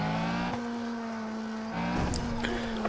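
Engine drone of a car in a retro racing video game, a steady tonal hum that shifts pitch as the car accelerates, with a brief squeal-like burst near the end, fairly loud and without talk.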